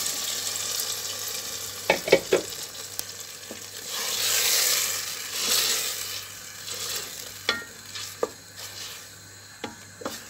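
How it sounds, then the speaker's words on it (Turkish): A garlic and tomato mixture simmers on low heat with a soft continuous sizzle and bubbling, broken by several sharp stirring clicks and spoon taps against the pot, no talking. "Kısık ateşte kaynamaya devam ediyor."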